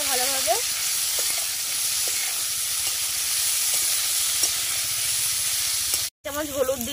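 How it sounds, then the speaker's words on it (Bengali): Figs and potatoes fry in a pan with a steady, loud sizzle and hiss, broken by faint stirring clicks, a brief cutout near the end and a voice just after it. "নিয়ে সবজিটা ভালোভাবে ভেজে নেব, যাতে ডুমুরটাও সিদ্ধ হয়ে যায়, আলুটাও সিদ্ধ হয়ে যায়"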